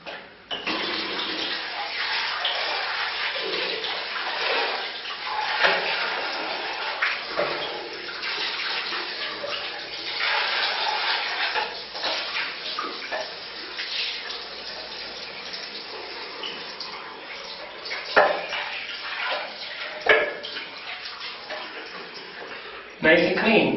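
Water draining and gushing from a sink while dishes are washed, a continuous close rush of flowing water with occasional clunks and splashes over the whole stretch.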